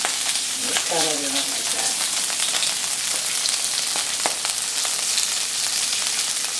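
Shrimp fry in a pan with a loud, continuous crackling sizzle and scattered pops close by, while a person speaks briefly near the start.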